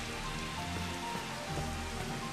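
A rain spell cast in the video game Final Fantasy XV, giving a dense, steady hiss of falling rain that stays at an even, fairly loud level throughout with no voices.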